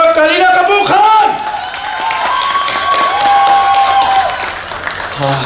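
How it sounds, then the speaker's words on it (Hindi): A studio audience at a televised dance show applauds a celebrity guest, loud sustained clapping and cheering mixed with a host's amplified voice and music swells. "तालियां रुकनी नहीं चाहिए"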